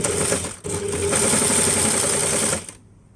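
A serger overlocking a fabric edge while altering clothing runs in a fast, close, steady mechanical whir, stops briefly, starts again and keeps going, then cuts off and leaves quiet room tone.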